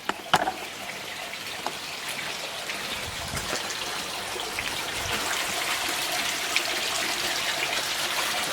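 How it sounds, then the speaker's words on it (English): Potassium permanganate mixture poured into koi pond water, a soft continuous trickling and splashing close by with a brief sharper splash at the start, alone without talk. "we're going to put this mixture into the water"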